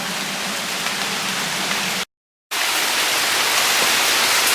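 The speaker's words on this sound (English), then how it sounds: "Rain's picking up again." Heavy rain from Hurricane Harvey falling in Houston, a loud, unbroken roar of drops on surfaces that fills the whole clip apart from a brief silent cut in the middle.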